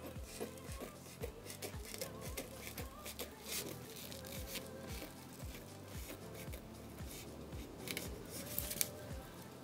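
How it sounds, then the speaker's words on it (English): Rapid repeated snips of scissors cutting through thin lace, a quick steady rhythm up close with faint background noise. "I just take my scissors and I just go over."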